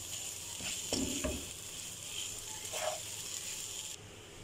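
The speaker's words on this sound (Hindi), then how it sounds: "2 से 3 मिनट हिला के भुनाई करेंगे।" Soft scraping and stirring of boiled white mash dal roasting in a pan over a low, steady sizzle, with a few brief clinks of a spoon against metal.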